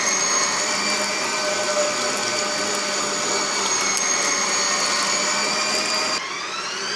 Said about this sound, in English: While I'm grinding down this pork meat